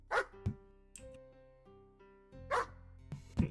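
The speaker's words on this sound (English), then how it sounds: "Don't bring the dog over here." A dog in the video game White Hell gives several sharp barks in separate bursts, loud and close, with short tonal tails between them and no talk.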